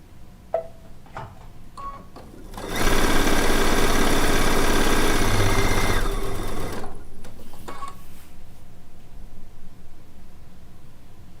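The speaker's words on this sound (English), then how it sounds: "I'm going to sew my two pieces." A sewing machine stitching two quilt pieces together runs in one steady burst of about four seconds. Faint handling clicks come before and after it.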